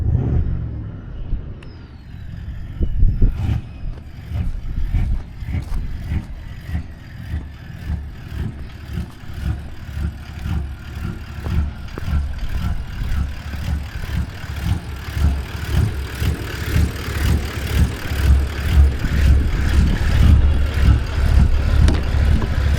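A vehicle engine idling near a beach, a low, uneven, pulsing rumble with a lumpy rhythm that grows gradually louder and fuller, with no voices.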